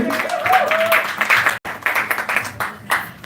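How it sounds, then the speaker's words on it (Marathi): Applause and scattered clapping from a crowd at a film launch event, loud and continuous for a few seconds, with voices mixed in and a brief break midway. "या सगळ्या कलाकारांसाठी जोरदार टाळ्या झाल्या पाहिजे"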